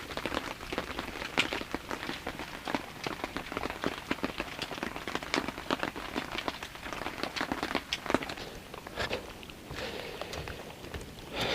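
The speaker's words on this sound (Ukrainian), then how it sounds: "Дощик капає вже дві години десь." Rain drips and patters steadily on a fishing tent at a carp lake, a dense run of close, irregular taps that carries on without a break.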